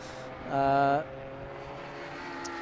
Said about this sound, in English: That's going to be the Kaylee Porsche versus the 55 Porsche as well.